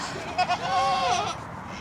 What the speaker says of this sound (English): would you want 200 pounds of goat trying to climb on you?